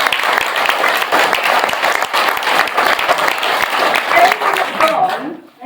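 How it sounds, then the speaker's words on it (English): A crowd of protesters at a council meeting about threatened lime trees claps loudly and steadily for several seconds, with voices mixed in, before the applause tapers off. "Give yourselves a round of applause."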